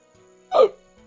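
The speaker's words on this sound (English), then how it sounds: "Oh my goodness, I have hiccups now." A single hiccup heard in Old School RuneScape during the Varlamore update, a short burst over faint game background sound.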